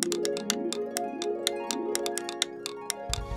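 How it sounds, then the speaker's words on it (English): Pencils tapped like drumsticks make a quick, irregular run of sharp clicks and ticks, close and fairly soft, over a steady musical backing. "instead he used his pencils to play the drums."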